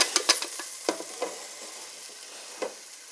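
Potatoes with plenty of thyme frying in a pot give a soft, steady sizzle, punctuated by a few sharp stirring clacks near the start and another scrape later.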